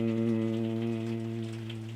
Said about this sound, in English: create that humming sound on the out breath